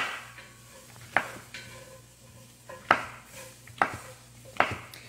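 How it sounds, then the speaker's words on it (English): A knife chops mushrooms roughly on a cutting board in four crisp, evenly spaced thunks about a second apart, close and clear over a faint background hum. "I'm hoping to cut up about 2 cups of mushrooms here"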